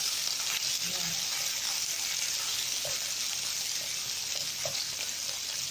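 Beef ribs and garlic browning in a pan for oyster-sauce ribs, giving a steady, close sizzle and crackle of frying throughout, with occasional soft stirring or spatula clicks and no talking.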